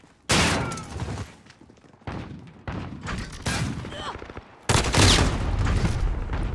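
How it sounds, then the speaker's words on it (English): Shotgun blasts in Call of Duty crack out as several loud, close booming shots with decaying tails, spaced unevenly over a noisy game background, with other bursts of gunfire mixed in. "A shotgun."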